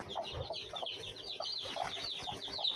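Country hens of the small siruvidai breed cluck softly on a farm, a faint, busy mix of overlapping clucks and chatter.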